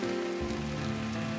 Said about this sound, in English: I woke to a morning of light drizzle